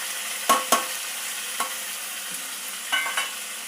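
Tomato and potatoes sautéing with salt and turmeric in a pan, a low steady sizzle broken by a few sharp spatula clicks and scrapes, close and without speech.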